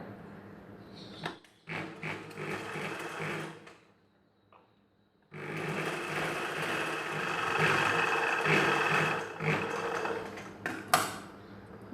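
A sewing machine stitching a back-open blouse runs in two bursts of fast rhythmic whirring, separated by a short pause, close and fairly loud, with no talking.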